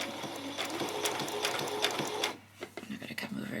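A domestic sewing machine stitches a back stitch on a peasant skirt, a dense steady mechanical whir with rapid needle ticks that stops partway, followed by a few small handling sounds.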